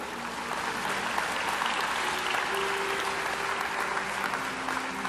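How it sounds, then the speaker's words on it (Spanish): A church audience claps in steady applause that holds at an even level throughout, dense and moderately distant, with no speech over it. "Un aplauso al Rey."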